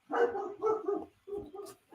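Dogs bark at home in a few loud, close woofs and yips, two quick bursts followed by a shorter volley.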